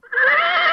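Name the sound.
horse neighing, played as a joke sound effect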